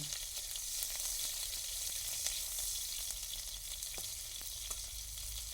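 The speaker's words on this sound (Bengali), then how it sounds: "পাঁচ ফোড়নটাকে ভেজে নেব পাঁচ ফোড়ন থেকে সুন্দর একটা গন্ধ বেরিয়েছে" Panch phoron and chopped green chillies frying in hot oil, a steady close crackling sizzle with faint occasional ticks from the pan.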